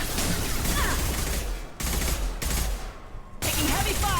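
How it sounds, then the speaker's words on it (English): Sustained gunfire in Mass Effect 2 comes in dense, loud bursts of rapid shots, broken by two short pauses before firing resumes. "Taking heavy fire!"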